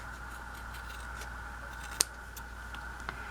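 Scissors snip once crisply through faux fabric washi tape, a single close, sharp cut with a faint second click a moment later, set against a steady quiet room hum.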